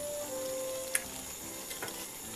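A Nagara Foods offal hotpot with tofu simmers on the table, giving a faint, steady bubbling hiss with a few soft clinks, and nobody talks.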